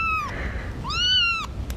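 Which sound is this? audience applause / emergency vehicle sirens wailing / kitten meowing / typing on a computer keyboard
kitten meowing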